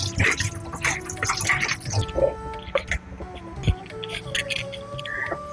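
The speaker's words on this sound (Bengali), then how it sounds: "বেগুন কেটে না ধুলে তো কালো হবে, তাই ধুয়ে নিচ্ছি।" Cut eggplant pieces are washed in water, with close splashing, dripping and sloshing by hand, a few clatters mixed in, over a steady background hum.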